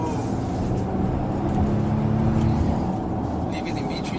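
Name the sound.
Volvo XC90 T8 engine while cornering in B3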